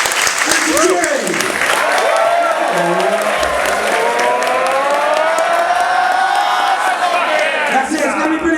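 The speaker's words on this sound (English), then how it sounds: "let's have a little round of applause and a round of applause" Loud audience applause and cheering fill a stand-up comedy show, a dense sustained roar of clapping with whoops and shouts, voices rising and falling throughout without a break.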